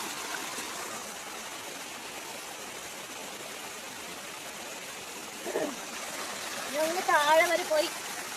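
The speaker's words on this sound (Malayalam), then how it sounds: "അങ്ങനെ ഞങ്ങളിതാ നാച്ചുറൽ വാട്ടർ ഫോൾസ് ഇതിലേക്ക് എത്തിയിരിക്കുന്നു." Water rushing steadily at a natural waterfall and stream, a continuous hiss heard near, with voices breaking in toward the end.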